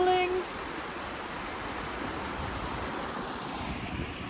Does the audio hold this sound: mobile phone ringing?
no